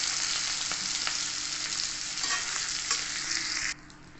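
Ivy gourd (kundru) fries in hot oil with a dense, continuous close sizzle and crackle, then drops sharply quieter near the end, with no voices.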